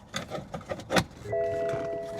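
An original BMW interior trim piece snaps into place with a quick series of faint plastic clicks and rattles, followed by a steady electronic chime tone from the car.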